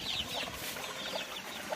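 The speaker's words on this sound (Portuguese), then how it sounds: "Aí a galinha do pintinho. Mãezinha carinhosa aí, ó." A hen clucks softly and repeatedly beside her chicks on a rural farm, with light high peeping throughout at close range.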